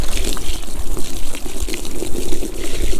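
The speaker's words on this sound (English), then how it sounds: "All we're going to do is just give it a rinse with the garden hose." A garden hose sprays water steadily over a rubber all-weather floor mat from a 2019-or-later Ram 1500 crew cab, a constant close gushing rush with splashing, no voices.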